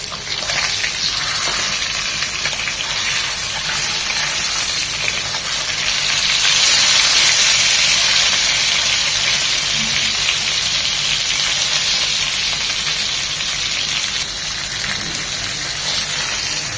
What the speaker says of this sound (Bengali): ভেজে একদম কড়া করে ভেজে নেবো